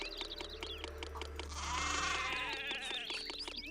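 Sheep bleat in the city-building game Zeus: Master of Olympus, a wavering, loud bleat in the middle set against a steady game soundtrack with repeated clicky tones.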